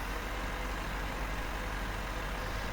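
A tractor engine pulling a sprayer in the Farming Simulator 15 game, a steady, even engine drone with a deep low rumble and no variation in pace.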